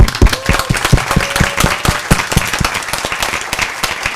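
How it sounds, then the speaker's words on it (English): Audience applause at a capstone presentation event, a dense run of loud, sharp hand claps sustained through the whole stretch with a faint tone briefly in the background. "Let's give a round of applause"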